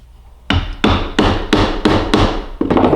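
A wooden mallet strikes a chisel to square up a drilled hole in a wood workpiece, landing seven sharp, close, evenly spaced blows, each ringing briefly before the next, with no talking.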